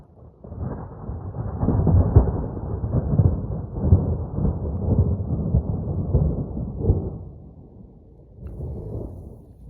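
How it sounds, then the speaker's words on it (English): Deep, continuous rolling thunder rumbles for several seconds at a campsite in Big Bend, swelling and fading, with a softer rumble returning near the end; faint rain may patter underneath. "There's thunder"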